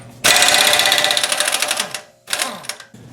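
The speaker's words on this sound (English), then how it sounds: "get a 36mm socket and bust this nut loose" A pneumatic impact wrench hammers a 36mm socket on a rear hub nut of a 240sx being fitted with Z32 brakes, sounding in two loud, rapid rattling bursts up close, the first long and the second short, with no talk.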